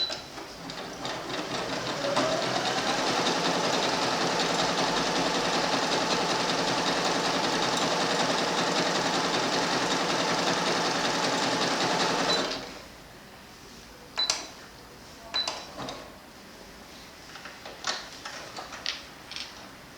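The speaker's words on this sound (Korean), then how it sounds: "일단 기본적으로 지그재그를 선택해서 위치 맞춰주고 스타트." Sewing machine running a zigzag stitch: a loud, steady mechanical whir for about twelve seconds, then stops, followed by a few scattered clicks and handling knocks.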